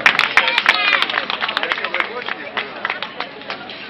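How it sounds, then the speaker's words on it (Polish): A crowd at a Letni Puchar Bieszczadów winners' ceremony in Zagórz breaks into lively applause, crisp overlapping hand claps at close range, with voices heard alongside. "Wielkie brawa, drodzy państwo."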